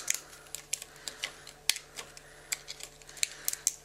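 Die-cut paper is eased slowly off the die, giving a string of small, sharp crackles and ticks at an uneven pace against a quiet background.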